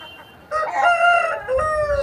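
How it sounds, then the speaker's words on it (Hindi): A red Aseel rooster at Balrampur market, West Bengal, crows loudly and close by, one drawn-out call with a brief pause partway through. "ये लाल मुर्गा देखिए"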